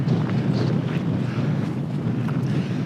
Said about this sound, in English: And I'm sure you can hear it, but it is very windy.